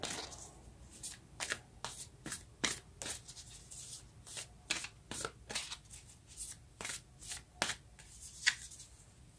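A deck of oracle cards shuffled by hand before a draw makes a steady series of about fifteen crisp riffling bursts, close and fairly even in rhythm, with no talking.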